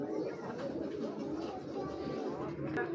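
A large female pigeon coos softly and continuously at close range over a steady background hum, with no voices heard.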